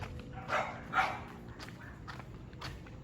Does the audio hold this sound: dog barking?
yes